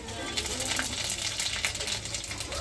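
Panch phoron spices sizzle steadily in hot oil alongside bay leaves, a continuous close crackling hiss with light popping throughout.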